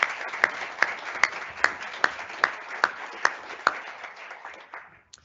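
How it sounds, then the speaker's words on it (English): At an International Women's Day 2020 live event, evenly spaced claps ring out, about a dozen in a slow steady rhythm over a soft wash of room sound. They fade and stop near the end. "So maybe we can just start with a quick round of applause for everyone that helped make today happen."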